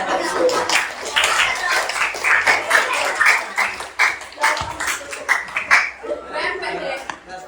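A group of people clapping hands during a floor gymnastics teacher-training session, uneven bursts of claps mixed with chuckles and talk.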